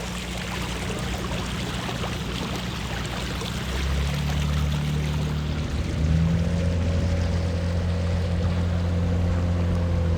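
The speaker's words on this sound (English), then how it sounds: "the bow stem at the very front of the boat as it cuts through" Steady engine drone with broadband water rush and splashing as an old wooden bateau's bow cuts through water, continuous and close, with a low hum shifting partway through.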